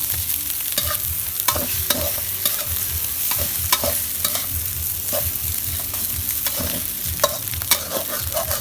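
Thai fried rice with shrimp is stir-fried in a wok: continuous sizzling with rhythmic scraping and clacking of a spatula against the wok, close and steady.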